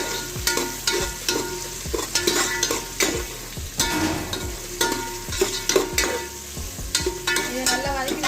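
Onions frying in a pan, stirred hard with repeated scraping clatters of a utensil against the metal over a constant sizzle, close up and busy, with no talk.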